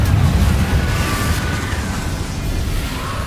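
A Confringo fire spell bursts in Hogwarts Legacy as a rumbling, roaring explosion that stays loud and sustained, with a low boom underneath and a hissing, whooshing tail.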